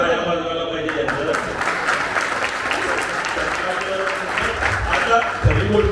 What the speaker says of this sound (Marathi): सगळ्यांनी टाळ्या वाजवायला पाहिजे यांना.